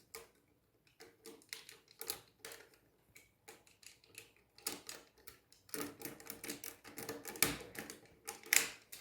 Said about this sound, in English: Just reattach the pterodactyl into place.